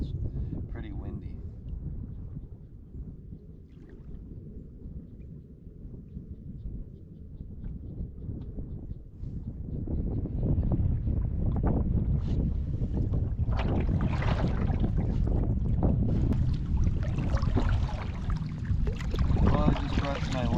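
Wind blows across a lake in the Adirondacks during a fall canoe camping trip, first as a low rumble and then building into louder, gusty buffeting noise.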